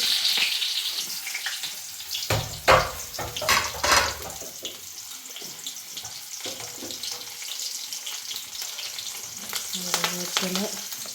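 Mustard seeds splutter in hot oil in a home kitchen. Sharp, irregular pops and crackles burst out loudly, over a sizzle that later settles into a quieter, steadier fry.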